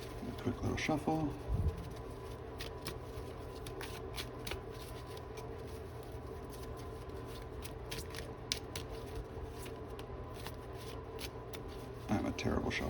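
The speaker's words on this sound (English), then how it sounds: "quick little shuffle." A deck of Yu-Gi-Oh! cards from a Dark Magician Kashtira build is shuffled by hand with soft, rapid riffling and snapping flicks close up, while a person talks quietly throughout.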